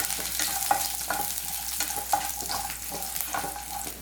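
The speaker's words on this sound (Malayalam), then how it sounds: "ഒന്ന് ഇളക്കി കൊടുക്കാം." Ginger pieces and almonds fry in oil in a pan while being stirred for dum aloo, giving a steady close sizzle broken by a few sharp scraping clicks of the spoon.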